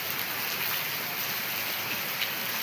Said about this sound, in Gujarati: દેખો મિત્રો, બહુ સરસ વરસાદ આવી રહ્યો છે.